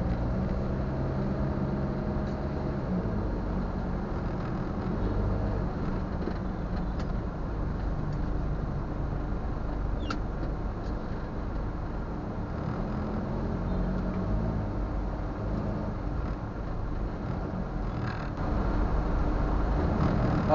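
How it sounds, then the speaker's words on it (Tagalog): Road traffic streams along near the Quezon City circle from Tandang Sora, a steady, dense rumble of engines and tires with occasional louder passing vehicles, no voices. "Dito na tayo tumutok sa may traffic."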